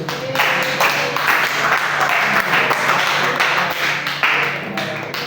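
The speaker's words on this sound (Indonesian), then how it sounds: "Beri tepuk tangan buat yang udah maju." Steady applause in a high school classroom, many hands clapping continuously, loud and close, with faint voices mixed in.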